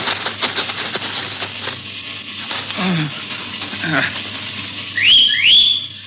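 A bright, rising whistle calling horses rings out twice near the end over a steady hiss, after some soft rustling and scraping.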